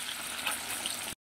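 A whole block of paneer frying in hot oil gives a steady, close sizzle with soft crackles, unbroken until it cuts off abruptly.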